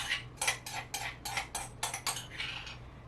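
A spoon stirs a gelatinous flaxseed mixture with onion and garlic for vegan beet burgers, clinking and scraping against the bowl in a steady rhythm of about eight close strokes.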